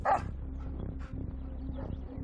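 During police dog handling training, a dog gives one sharp bark at the start, followed by lower whimpering and vocal noises under a steady background hum.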